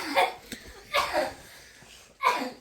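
A sick child coughs at home in three separate bursts, each short and close, with quiet gaps between them.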